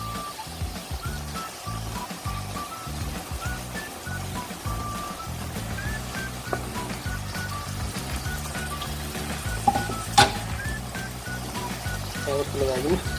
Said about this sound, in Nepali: थोरै तातो पानी हालिदिउँ